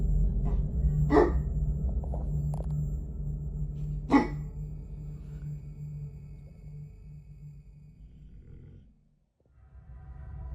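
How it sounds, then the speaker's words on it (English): A dog barks furiously in the middle of the night, a few sharp barks spaced apart over a steady low rumble, heard close with no talking. "It was her dog. In the middle of the night, he started barking furiously"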